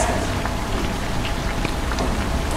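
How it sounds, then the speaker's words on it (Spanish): Steady rain falls outside, a dense close patter of drops on surfaces with scattered louder splashes, continuous and even throughout with no voices. "Como llueve."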